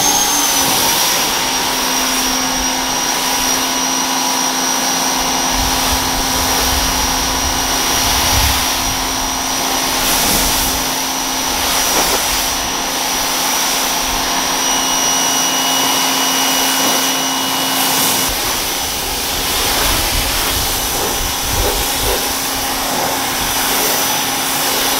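An MTM SGS 28 pressure washer fitted with a 40 degree nozzle runs in a steady, loud, continuous hiss and whine while a car exterior is detailed, alone with no talk.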